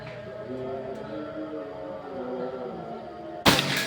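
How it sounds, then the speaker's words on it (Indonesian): A single sharp shot from a Predator Pajero Gen 6 air rifle during an accuracy test cracks loudly near the end, after a stretch of someone talking over quiet background. "Kita lanjut lagi ke tembakan yang keempat."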